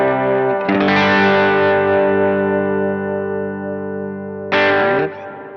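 An electric guitar plays a clean tone through a Kemper AC30 amp profile with reverb and slight grit: a strummed chord rings out and slowly decays, then a second chord is struck near the end, loud and close.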